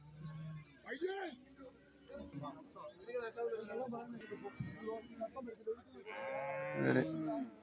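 Water buffaloes and buffalo calves at a livestock market, lowing in deep, drawn-out calls, with a strong one near the end, over a steady hubbub of voices and crowd noise.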